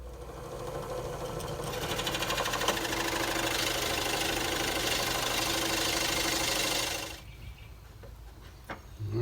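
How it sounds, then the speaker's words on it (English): A power drill whirs steadily for about seven seconds, boring a hinge hole into a wooden bathroom cabinet door up close, then stops and leaves quieter handling noise. "I'll drill, stop, check it with my hinge, and then re-drill if necessary."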